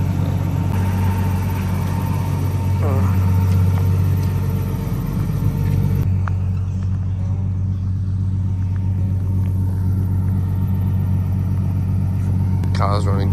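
A Nissan Patrol with a TB48 turbo engine drives across the Nullarbor with a steady low engine and road rumble heard from inside the cabin, while people talk over it.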